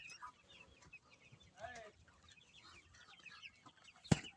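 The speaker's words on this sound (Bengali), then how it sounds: "এই যে আমার মুরগি।" Hens and chickens kept as backyard poultry cluck softly and sporadically in a quiet yard, faint and close, with a sharp knock near the end.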